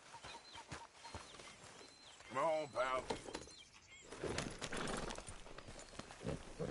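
Horse hooves clip-clop in a quick run of steps amid Red Dead Redemption 2 game sound effects, with a short spoken line near the middle.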